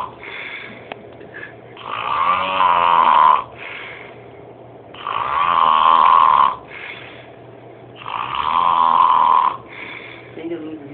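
A person snores loudly and with gusto, three long rasping inhalations spaced a few seconds apart with quieter breathing between them, close and clear with no talking.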